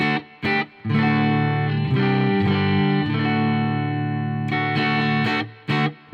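An electric guitar plays through a Marshall Code 50 amp on a clean tone, with a few ringing chords held and sustained, then brief pauses and a fresh strum near the end.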